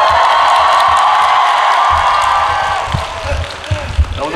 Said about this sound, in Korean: 함성 소리 역대급 인정하겠습니다